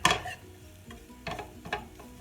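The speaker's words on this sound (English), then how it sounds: "we are going to let the flour cook for a few minutes" Flour cooks in a pan as the base for sausage gravy, giving a faint low sizzle broken by a few distinct spatula scrapes and stirs, quiet and close, with no talking.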